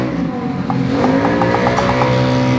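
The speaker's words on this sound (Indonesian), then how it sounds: "Ada akhlak naik motor begitu, Roni." A motorbike revs and passes along a street beside a traffic light near a martabak stall, its engine note rising loudly and close before steadying.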